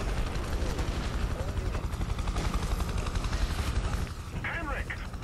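Helicopter in the video game Prototype 2, a steady rotor drone mixed with gunfire and game effects, running throughout at moderate loudness with a voice briefly cutting in near the end.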